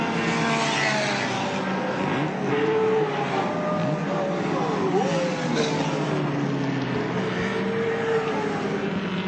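Touring cars, including a BMW, race side by side toward the finish line at Lakeside circuit in the 1984 Australian Touring Car Championship, engines roaring loudly and continuously with shifting pitch as they pass.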